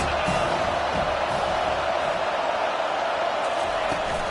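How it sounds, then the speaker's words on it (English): A dense, loud stadium crowd roars in an NCAA football video game, a continuous wash of cheering noise with no pauses, with speech audible underneath. "Big third down as the crowd gets behind this defense."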